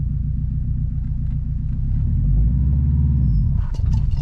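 A car engine rumbling low and steady, pitch rising then settling as the driver eases off the clutch and gives more gas, close and loud, with a brief high whine near the end.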